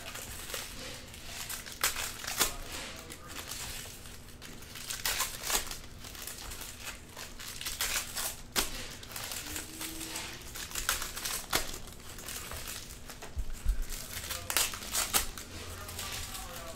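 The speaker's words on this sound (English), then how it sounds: "if any pack could be like Contenders, they all rip so easily" Foil wrappers of 2019 Panini Contenders football card packs tear open with repeated crinkling rips and rustles, fairly close and steady, with occasional sharper tearing bursts and no talking.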